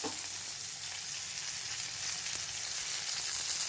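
Sliced onions fry with turmeric in a pan for a radish stir-fry, giving a steady, close, bright sizzle that holds evenly throughout without any talking.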